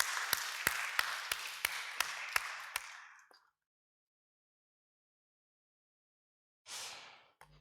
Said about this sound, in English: I hope you greet him with a lot of applause